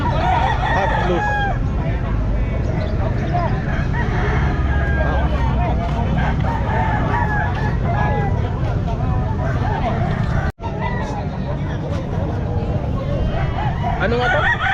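A hot blue gamefowl rooster crowing repeatedly amid other chickens, with several crows and clucks rising through a busy scene while people talk throughout.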